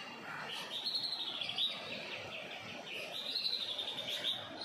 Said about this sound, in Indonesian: Suara burung berkicauan sangat asri ya.